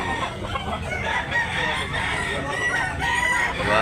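Roosters crow and chickens cluck nearby at a fowl market in Tabunok, Talisay, Cebu, loud overlapping calls over a busy background of other birds.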